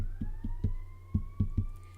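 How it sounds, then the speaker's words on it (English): Distant emergency sirens pass on a main street, wailing faintly in the background, their tones slowly rising, while a series of close, dull thumps lands in an uneven rhythm. "I don't know if you can hear the sirens out there. They're going by."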